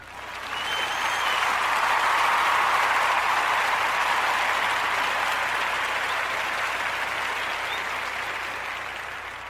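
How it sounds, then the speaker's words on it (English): A large crowd applauds Mayor Newton at a community event, steady dense clapping swelling in quickly and holding loud for several seconds before easing slightly at the end. "I'm going to give you a round of applause for doing great work in our community"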